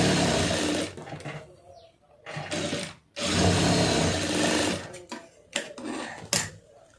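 A sewing machine stitching a lined blouse runs in loud bursts, each lasting about a second or two, separated by short pauses, with light handling clicks between them and almost no talk.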